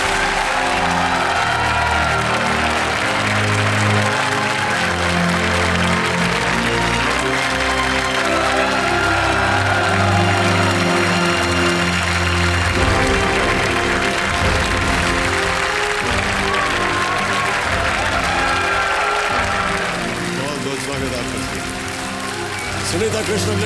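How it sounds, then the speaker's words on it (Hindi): A studio audience on a TV quiz show applauds to welcome a guest. The long stretch of clapping and cheering sits under loud music and talk, easing off near the end. "तालियों के साथ उनका स्वागत है।"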